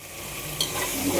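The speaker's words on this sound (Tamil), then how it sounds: "கட்டி நல்லா வதக்கலாம்." Spices, chili powder and chicken masala sautéing with tomato for a thorn-brinjal thokku, a steady close sizzle with a brief louder stirring scrape partway through, no voices.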